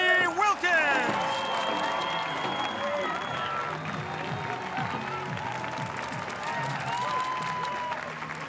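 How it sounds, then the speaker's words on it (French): A crowd at a skateboarding contest applauds, cheers and whoops for a skater. The clapping and shouting stay loud and continuous throughout, with excited voices and yells mixed in. "Faites du bruit et applaudissez pour Jimmy Wilkins"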